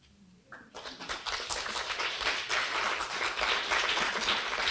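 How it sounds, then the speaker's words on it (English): A library audience breaks into applause for three readers, the clapping rising quickly after a quiet start into a dense, sustained wash of many hands that holds steady to the end. "can we have more applause for our three fabulous readers?"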